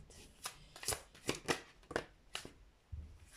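Oracle cards being shuffled and drawn by hand, a series of crisp close riffling and slapping bursts at an uneven rhythm, quiet and alone.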